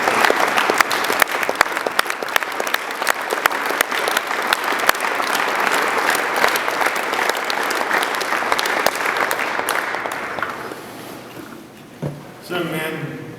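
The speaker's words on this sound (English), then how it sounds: "I'd like us to give them a round of applause also" A large audience at a high school winter sports banquet claps in a dense, steady round of applause that fills most of the clip, then fades out toward the end as a voice begins speaking.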